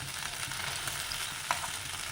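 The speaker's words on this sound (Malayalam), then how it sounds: "ഒരു പടവ് കൈപ്പയ്ക്ക വറുത്തിടും" Constant bubbling sizzle of bitter gourd slices frying in hot oil, close and even, with one brief clink partway through.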